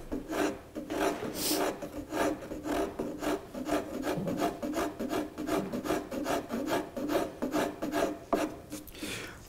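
Steady back-and-forth rasping of a rasp against a wooden chair leg being shaped, with rhythmic rough strokes, loud and close, no voices.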